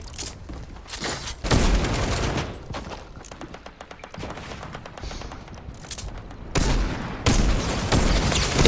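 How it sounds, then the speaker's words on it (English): Light machine gun fire in the Fortnite video game, heard as dense, sustained bursts of rapid shots with brief lulls between volleys, loud and close throughout. "I'm perforating my opponents from up close and personal with a light machine gun"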